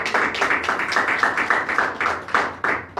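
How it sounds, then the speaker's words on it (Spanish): A congregation applauds at a church seminar on the Holy Spirit, steady rhythmic clapping from many hands, loud and continuous for several seconds without talk. "Dale fuerte el aplauso al Señor"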